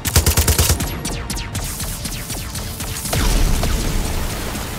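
Rapid bursts of Far Cry 6 gunfire, loud and close, crackling in quick volleys with a brief lull before another dense stretch of shots.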